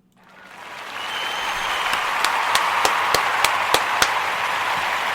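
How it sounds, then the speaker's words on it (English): At a Toast&Talk gathering, a group claps for those born under Imani. The clapping swells quickly from silence into a full, even round, with several loud, distinct single claps punctuating it near the middle. "I want to give all of the Imani born a round of applause"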